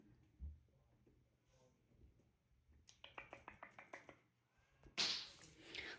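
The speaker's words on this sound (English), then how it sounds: "these are my Balinese kittens that I have out of Cocoa" Young Balinese kittens make a few faint sounds in a quiet room, followed by a quick series of close taps and then a louder, sharp burst near the end.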